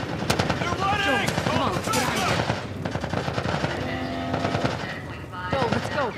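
Rapid automatic gunfire rattles in dense bursts during a firefight in The Last of Us video game, with single shots mixed in and urgent voices shouting over the shooting.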